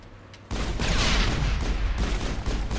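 Sustained rapid gunfire with heavy blasts erupts suddenly during a firefight against Krogan enemies in the video game Mass Effect 1, loud and dense throughout after a quieter opening.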